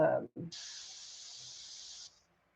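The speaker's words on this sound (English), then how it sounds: "We're spraying through the mesh so that it kind of has a little bit of an uneven" A steady hiss of paint spraying through mesh onto a fishing lure runs for about one and a half seconds after a couple of short voice fragments, then cuts off.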